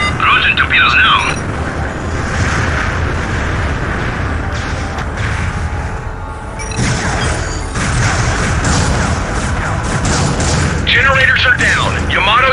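Torpedoes launch and explode in the space combat game Starlancer, heavy booms and crashes over a dense, continuous battle din that stays loud throughout.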